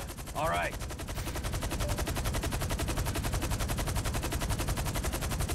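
Rapid continuous automatic gunfire in Grand Theft Auto V rattles steadily throughout, loud and sustained, with a brief voice-like chirp near the start.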